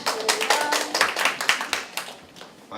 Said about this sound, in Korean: 큰 박수로 박수해 주시기 바랍니다